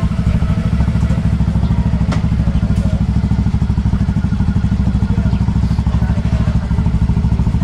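A motorcycle engine idles steadily up close, a loud, continuous low chugging that runs unbroken throughout, with faint voices in the background.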